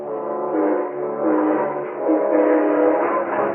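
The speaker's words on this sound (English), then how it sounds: "flagged down the eastbound train that same afternoon" Radio drama sound effect of an eastbound train: a rumbling, muffled blend of rolling cars and a sustained horn-like drone, steady and mid-loud for a few seconds, narrow and old-broadcast in tone.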